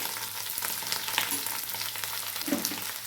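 Potatoes fry in a pan over low heat, a continuous crackling sizzle with soft stirring scrapes, close and steady, no speech.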